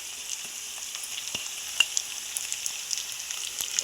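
Green chillies and onions fry in a pan, a continuous close hiss with scattered small pops and crackles, heard alone without talk.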